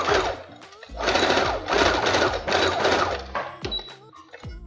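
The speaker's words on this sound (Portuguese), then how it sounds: "Agora eu vou costurar aqui essa partinha do elástico aqui para ele não escapar." A sewing machine stitches elastic onto a summer strap dress in close, loud bursts of rapid rattling with short pauses between runs, followed by a few clicks and handling noises.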